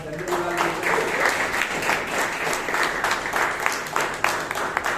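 Audience at a Bangalore Toastmasters club meeting breaks into a steady, dense round of applause, many hands clapping continuously at close range for the whole stretch, with faint voices mixed underneath.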